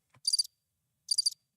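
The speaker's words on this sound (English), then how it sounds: "So I got the crickets here, so I'm hoping it works." A cricket-chirping sound effect gives two short, shrill trilled bursts about a second apart, clear and alone.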